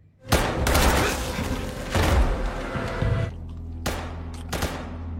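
Bursts of gunfire from a Squid Game Season 2 scene ring out loud and close, a rapid volley followed by a few separate sharp shots and a low hum between them.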